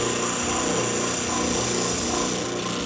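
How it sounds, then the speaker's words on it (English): A spindle sander runs loud and steady throughout, its continuous motor whine and rough abrasive grinding against the edge of a wooden board, with no pauses. "So when I use a spindle sander,"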